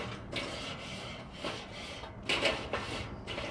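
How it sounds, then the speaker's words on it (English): A brush scrubbing the hot grate of a charcoal kettle grill, a series of soft, raspy back-and-forth strokes in an uneven rhythm, fairly faint and close, with no talk. "Now once the grate gets hot, I'll want to scrub with a brush."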